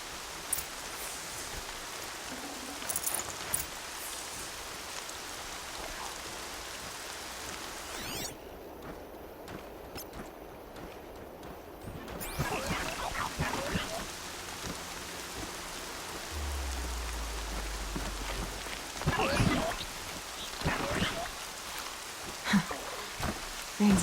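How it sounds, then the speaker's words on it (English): Steady rain falls in the video game Horizon Zero Dawn, a continuous broadband hiss of drops on the ground that holds through most of the stretch, with brief louder spatters and low game sounds beneath. "Rain's not so bad."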